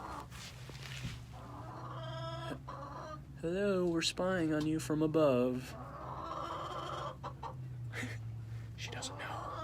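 Chickens in a backyard coop cluck and squawk loudly up close, with rising calls in the middle, under a person talking over them.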